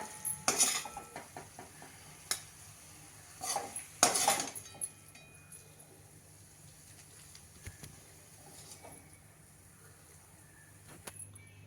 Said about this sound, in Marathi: आता आपण सर्विंग बाउलमध्ये भाजी काढून घेऊया